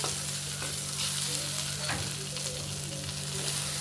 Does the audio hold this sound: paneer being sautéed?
yes